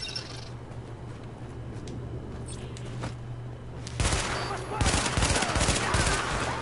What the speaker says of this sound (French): Donc celle-là est un petit peu mieux que l'autre mitraillette que j'ai